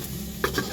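Rice grains fry in a pan for cumin rice, a Bengali New Year dish: a steady soft sizzle with two brief stirring scrapes against the pan.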